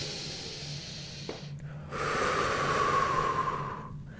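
A long, audible breath during a yoga mobility sequence, a soft rushing airflow that swells and holds for a couple of seconds, close and alone with no talking.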